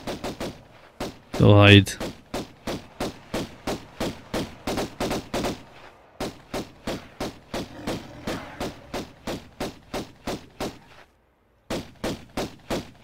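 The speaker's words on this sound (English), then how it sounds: "I'm just gonna sit here all day and shoot all of you." Pistol gunfire from the 1996 Tomb Raider video game: a long string of sharp, evenly spaced shots fires in steady rhythm, broken by a couple of short pauses, with a brief louder burst near the start and a person speaking briefly.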